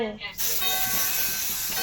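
An aerosol spray is let off at a birthday celebration, a short continuous hiss starting abruptly after a brief pause and holding steady to the end.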